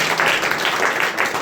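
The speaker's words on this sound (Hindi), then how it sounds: "तो एक अच्छा ताली बजाएं प्रभु के लिए।" An audience at a youth meeting applauds for the Lord, a dense burst of clapping from many hands that runs through the clip, close and loud.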